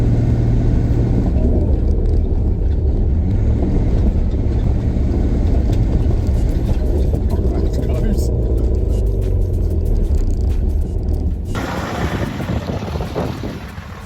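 A Lincoln Continental with a swapped BMW M57 diesel engine driving around a yard, a steady low engine rumble with heavy wind buffeting on the microphone, dropping off near the end.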